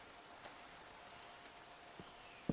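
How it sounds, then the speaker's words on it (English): Rain falls steadily in Minecraft, a soft continuous hiss near an ocean area with a few faint drop taps, quiet and without talk. "Oh, it's raining"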